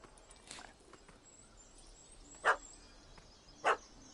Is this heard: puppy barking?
yes